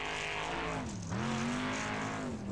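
A formula offroad car at a time attack event in Iceland races past with a loud, continuous engine roar whose pitch drops briefly, then climbs and holds steady, heard close with no other sounds.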